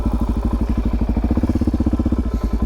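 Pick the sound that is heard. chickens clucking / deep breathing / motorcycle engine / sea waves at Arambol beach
motorcycle engine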